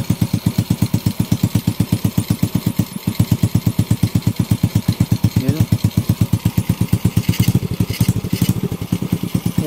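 Honda Wave 125 motorcycle engine running smoothly after a top overhaul with new piston, rings and cylinder head, a steady near idle with even rapid firing pulses throughout and slight revving toward the end.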